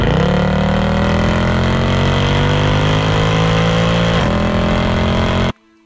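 A Mercedes C63 AMG with its 6.2 V8 and AMG sports exhaust, a loud, steady, deep engine rumble held at a near-constant pitch with a slight rise, then cutting off abruptly at the end.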